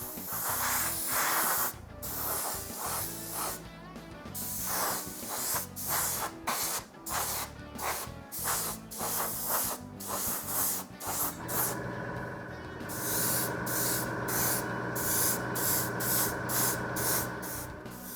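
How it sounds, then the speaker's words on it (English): Gloss varnish sprays onto a 1/35 scale HH-60G Pave Hawk model kit in a series of short hissing bursts with brief gaps, then a longer steady spray near the end, close and fairly quiet. "Lastly, everything was given a couple of coats of gloss varnish to seal the working."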